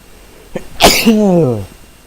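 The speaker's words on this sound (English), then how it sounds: "I hate sneezing." A single sharp sneeze comes from a person during a livestream of the game Grounded, a quick intake followed by a loud explosive burst that tails off with a voiced trailing sound, close to the microphone.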